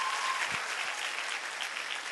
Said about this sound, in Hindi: एक बार अपने लिए जोरदार तालियां बजा दें